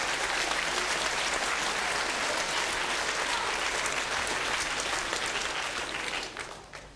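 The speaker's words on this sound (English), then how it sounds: "give yourselves a big round of applause" A lecture audience claps loudly and steadily, a dense wash of applause from a large crowd that carries on unbroken and only begins to fade in the final moment.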